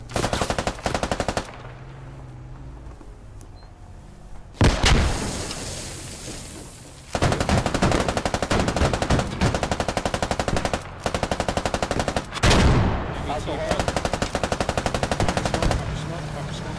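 Turret machine gun in a video game fires long rapid bursts, loud and close, broken by a couple of heavy booms and short pauses; no talk over it.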